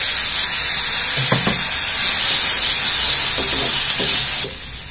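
Crushed roasted peanuts and tomatoes sizzle loudly in a hot pan, a steady frying hiss with a few soft stirring scrapes, close up, and no talking.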